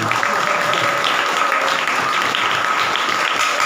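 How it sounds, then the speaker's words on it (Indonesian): A hall full of people applauds at a religious seminar, a dense steady wash of clapping that stays even and loud for several seconds. "Oh itu tepuk tangan."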